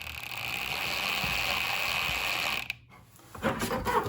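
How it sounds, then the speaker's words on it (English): A screw driven into the flange of a washing machine water inlet valve, heard as a steady close mechanical whir and grind for about two and a half seconds, then a brief pause and a short rattling burst. "I slid the valve over so that it's held in place while I drive the screw"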